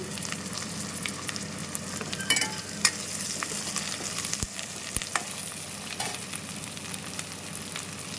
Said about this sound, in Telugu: దీంట్లో పచ్చిమిర్చి వేసుకోవాలి.